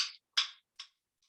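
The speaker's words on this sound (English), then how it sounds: "She is playing 2 wooden dowels." Wooden dowels knock together in a few sharp clicks, evenly spaced and fading, the last one faint.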